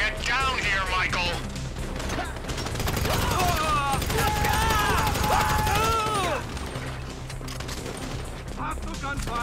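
Rapid gunfire bursts and rattling volleys in a Grand Theft Auto V shootout mission keep going under urgent character dialogue, with the shots loud and dense throughout.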